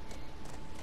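Horse hooves clip-clopping in the video game The Last of Us, a quick steady run of close hoofbeats with no voices.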